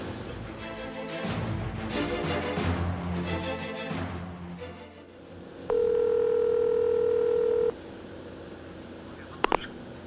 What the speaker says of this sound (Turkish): Hocam telefon önündeyken Bülent Yavuz'u arasana.